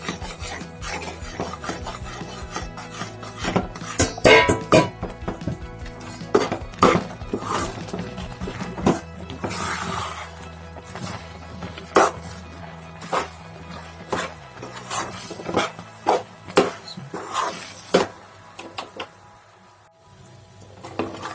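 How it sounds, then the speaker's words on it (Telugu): Rice flour batter being stirred a little at a time into boiling liquid in a pot for ariselu, heard as a steady run of close, rasping scrapes and knocks of the spoon against the pot, with no talking. "ఇందులో కలిపి పెట్టుకున్న పిండి కొద్దిగా వేసుకుంటూ కలుపుకోవాలి"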